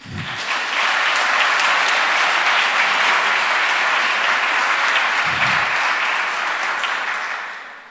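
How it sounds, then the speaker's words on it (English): Warm audience applause rises quickly at an award ceremony for teachers, holding steady and full for several seconds before tapering off. "So we can give them applause as well."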